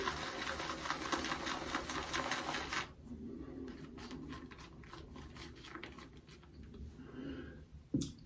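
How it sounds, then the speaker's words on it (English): A shaving brush works Sterling soap into a lather with fast, steady, close swishing strokes for about three seconds, then slower, looser dabs and squelches. "press to build the lather"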